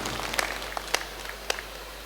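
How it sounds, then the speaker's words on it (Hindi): An audience at a Hindi poetry gathering claps to welcome a Jain poet, with a modest wash of applause and a few sharp individual claps standing out over a steady low hum. "एक बार पुनः जोरदार तालियां बजाकर आप उनका"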